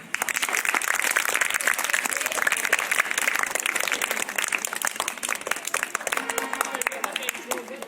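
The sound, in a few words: audience applause at school quiz programme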